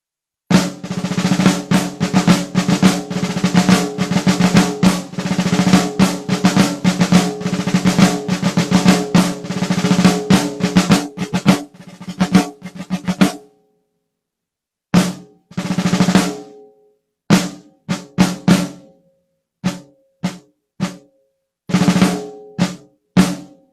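Rudimental snare drumming of the intro to a Swiss retraite theme from a 1799 ordinance, played close and loud with rapid rolls and accented strokes, then sparser phrases broken by short rests.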